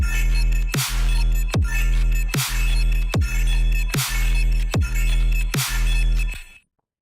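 Serum 2 synthesizer notes repeat in a steady pulsing rhythm, bright and buzzy with a washy reverb tail, ending abruptly into silence.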